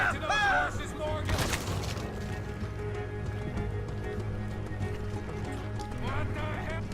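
Horses' hooves clatter in a Red Dead Redemption 2 jailbreak scene, a busy clip-clop mixed with a neigh, distant gunfire and game ambience, while voices talk over it.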